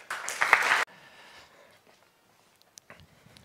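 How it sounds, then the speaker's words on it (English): A short burst of clapping from an audience that stops abruptly, followed by quiet with a few faint sounds. "Please give a warm round of applause to Nick."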